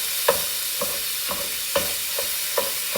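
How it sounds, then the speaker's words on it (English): Ground beef frying in a fry pan makes a steady sizzle, broken by a regular series of soft scraping stirs roughly every half second, close by and with no talk. "All right, so ground beef in the fry pan."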